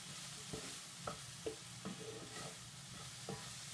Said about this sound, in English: you're going to toss that around with your veggies